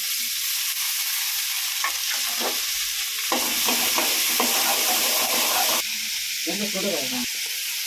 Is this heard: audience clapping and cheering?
no